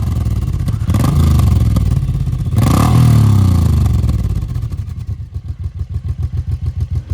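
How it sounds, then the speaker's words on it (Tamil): A Suzuki Intruder Boss Edition V-twin cruiser motorcycle engine, 112mm bore and 90.5mm stroke, revs loudly and close, then settles into a deep, lumpy idle with an uneven pulsing beat. "இந்த V-twin இன்ஜினோட ரம்பிளர் பீட்டு ஸ்கேரியாக இருக்குது."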